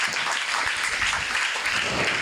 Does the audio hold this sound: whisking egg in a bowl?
no